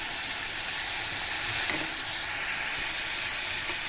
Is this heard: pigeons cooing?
no